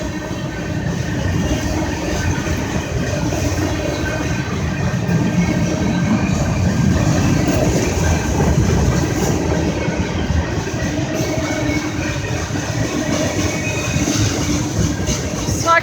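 A slow CSX freight train rolls through downtown Bell Buckle, Tennessee, its wagons producing a loud, continuous rumble with rhythmic wheel clatter, heard close to the tracks throughout.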